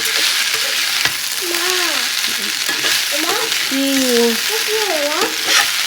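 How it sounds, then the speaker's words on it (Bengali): Macaroni pasta being stirred into vegetables in a frying pan, with a steady, loud sizzle running throughout and thin chirping tones drifting over it. "পাস্তাটা দিয়ে আস্তে আস্তে আমি মিশিয়ে নেব সবজির সঙ্গে"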